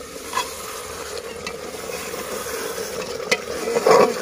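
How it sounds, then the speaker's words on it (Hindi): Masala fries for a village-style mutton curry, a steady close sizzle with intermittent clacks of a spoon stirring against the pot, growing a bit busier toward the end, no speech. "मसाला सब भूते भूते"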